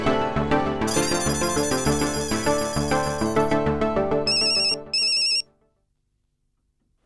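A telephone rings on an outgoing call, a loud, bright electronic melody that plays for several seconds, then two short beeping bursts before cutting to silence.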